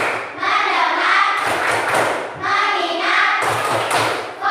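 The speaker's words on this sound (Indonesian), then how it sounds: "Sekarang kita tepuk fokus." A classroom 'tepuk fokus' clapping routine: rhythmic groups of thudding claps repeat in a steady pattern, mixed with chanted voices.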